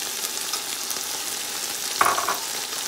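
Green, yellow and red bell peppers frying in a hot pan, a steady close hiss of sizzling with a brief clatter or stir near the two-second mark.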